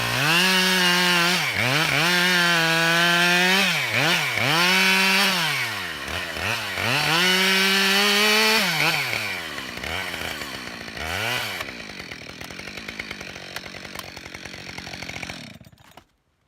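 Chainsaw cutting into a standing tree during felling, a loud continuous engine whine rising and falling in pitch as the bar bites and eases, close by for most of the stretch before tapering off and cutting out.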